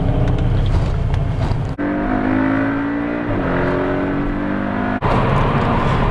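Porsche 718 Boxster flat engine pulling hard while driving, a loud steady drone with a gear change mid-way and revs rising and falling, no talk.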